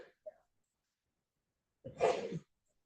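A single short sneeze bursts out close by after a brief quiet breath, then silence.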